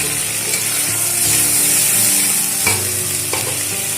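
Water poured into a hot pan of frying spice paste for a fish curry, producing a loud continuous sizzle with scraping stirring and occasional sharp clinks, close up.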